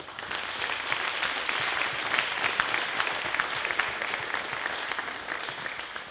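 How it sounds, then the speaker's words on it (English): Sustained applause from an audience at a high school awards night, a dense steady wash of many hands clapping together with no pauses and no voices on top. "So I'd like to give them a round of applause."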